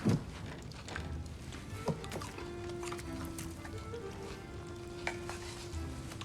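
Sausage cooking over a fire in God of War Ragnarok, a low steady sizzle with faint stirring and occasional soft knocks, quiet and continuous under a distant game ambience, with no talk.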